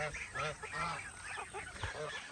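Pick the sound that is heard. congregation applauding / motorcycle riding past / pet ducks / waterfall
pet ducks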